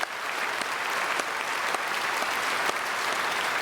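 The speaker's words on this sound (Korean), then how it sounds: "우리 박수로 축복하고 환영하겠습니다" A church congregation at a Sunday worship service claps in welcome, a continuous even wash of many hands at moderate distance with scattered sharper claps and no talking over it.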